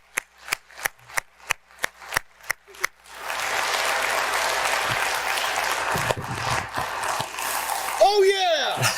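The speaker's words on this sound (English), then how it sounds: "Let's give a round of applause." A few slow, distinct claps build into sustained audience applause that carries on for several seconds, with a voice calling out over it near the end.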